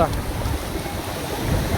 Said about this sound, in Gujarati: આ રીતના કાંઈક મોજા ઉછળે છે